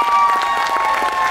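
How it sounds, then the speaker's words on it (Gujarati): Audience applause at a dance performance show: a short, dense burst of many hands clapping, with a steady tone sounding through it. "જોરદાર તાળીઓ"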